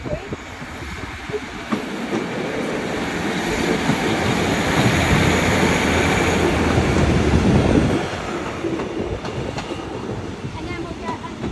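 A Welsh passenger train bound for Pontypridd pulls out of the station, a loud rumbling roar with clattering wheels that swells and then eases, and a faint voice is briefly heard over it.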